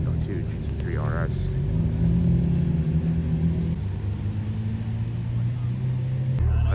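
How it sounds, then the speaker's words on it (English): A white Porsche Carrera GT rolls in with a low, steady engine rumble that swells briefly, heard close and continuous among other ambient noise. "White Carrera GT with the white wheels pulling in"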